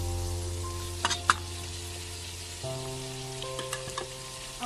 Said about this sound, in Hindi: फ्राई करने के बाद इसमें हम टमाटर शामिल करेंगे।